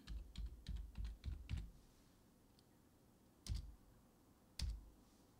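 A computer keyboard is tapped as an old password is typed: a quick run of five or six close clicks, a pause, then two more isolated keystrokes, all quiet and alone.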